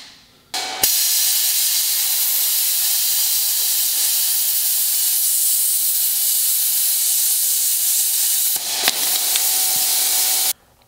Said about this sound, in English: Any excuse to use the plasma cutter